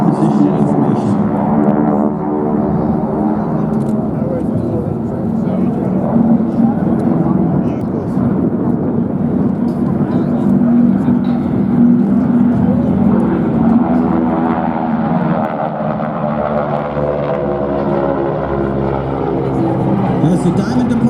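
Red Arrows jets of the British air force roaring overhead at the 2019 New York Airshow, a loud steady engine rumble that fills the whole stretch, with crowd noise faintly beneath.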